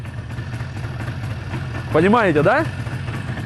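A 1991 motorcycle engine idles with a steady low rumble, and a voice speaks over it.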